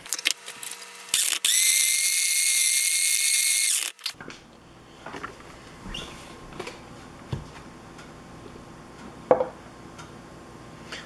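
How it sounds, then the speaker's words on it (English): A NutriBullet blender motor whines loudly for a few seconds while trying to grind a baseball, then cuts off, followed by quieter clicks, scrapes and knocks of handling. "It looks like the NutriBullet won't fully blend a baseball."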